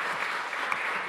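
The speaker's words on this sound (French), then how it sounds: "Il mérite un peu d'applaudissements aussi parce qu'ils font un travail formidable" An audience at a conference applauds the event staff. A brief burst of steady, fairly loud clapping fills the moment.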